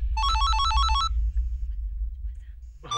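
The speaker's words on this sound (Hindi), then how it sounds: "फोन बज रहा है, किसी का उठाओ।" A telephone ringtone warbles in a quick, bright electronic trill for about a second inside a home, then stops, leaving a low hum before a muffled voice comes in at the end.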